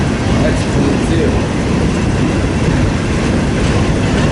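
A freight train with CSX and Conrail cars rolls past close by, giving a loud, steady low rumble and roar that holds constant throughout.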